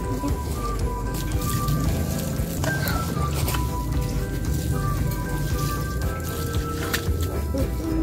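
Soil around a freshly planted avocado tree is watered outdoors in the lowlands, giving steady splashing, dripping and soft squelching as water soaks the ground, close and moderately loud.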